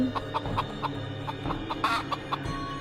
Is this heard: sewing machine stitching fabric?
no